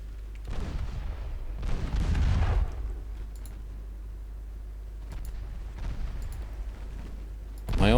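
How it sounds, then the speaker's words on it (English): Torpedoes exploding aboard a warship in Ultimate Admiral Dreadnoughts: two separate muffled booms with rumbling tails over a low steady drone, followed by another distant thud and a sharp hit at the very end. "My own torpedoes have blown up."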